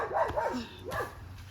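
A puppy gives two or three short, high yipping barks up close outdoors in the woods, each a quick rising-and-falling yelp, with a brief pause between them.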